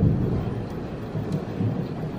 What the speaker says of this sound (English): And we just had some thunder.